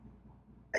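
A single sharp sneeze bursts out at the very end, loud and close, after a stretch of quiet low room murmur.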